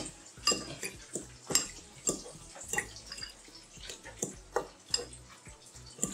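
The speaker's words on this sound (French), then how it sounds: "On va mélanger tout ensemble." Spoon scraping and clinking inside a metal pot while fish and plantain ingredients are mixed together, a steady series of soft, close knocks and light metallic taps with faint wet sounds between them.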